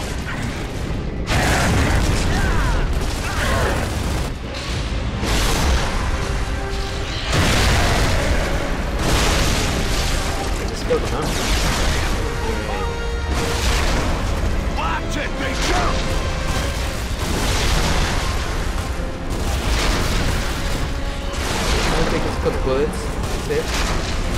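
Grenade blasts and heavy combat in the video game Gears of War 3 form a dense, loud wall of booms and gunfire throughout, with voices shouting underneath.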